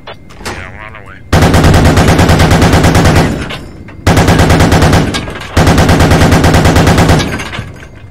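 Loud bursts of heavy automatic fire in the military shooter game Squad, three long sustained volleys separated by short pauses, close and overpowering, with a voice speaking briefly at the start.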